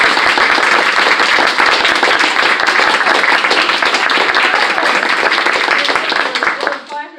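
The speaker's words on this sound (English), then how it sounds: "Let's all try the thunderous applause" A large audience of about 500 people bursts into loud, sustained applause, dense clapping filling the room steadily before tapering off at the very end.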